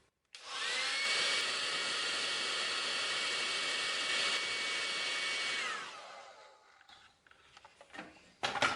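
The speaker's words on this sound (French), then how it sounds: "je prends mon tube PVC, je prends un décapeur thermique" A heat gun blows a steady, loud roar while warming a PVC tube, then winds down and cuts off near the end, leaving a few faint handling clicks and knocks.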